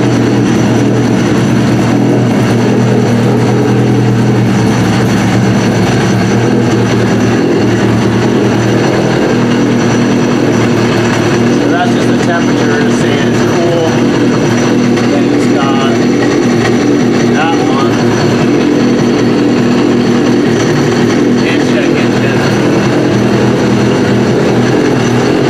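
A Yamaha RX-1 Mountain snowmobile, bought in trashed condition, runs with a loud, steady high-revving engine drone that sounds like a race bike, close and continuous throughout with dense harmonic whine.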